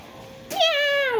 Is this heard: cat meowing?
yes